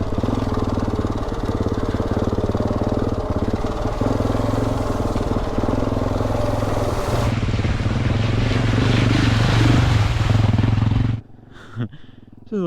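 A KTM 690 Enduro motorcycle idles and revs steadily on a Colorado trail ahead of a puddle crossing, loud and close for about eleven seconds before cutting off abruptly, with a voice speaking briefly.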